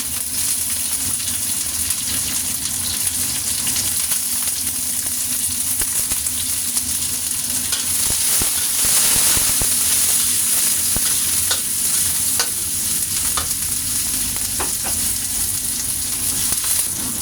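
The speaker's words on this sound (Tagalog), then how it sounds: "fry the ginger, the garlic. The onion" Ginger, garlic and onion frying in a pan, with a loud, continuous close-up sizzle and occasional clicks and scrapes of stirring throughout.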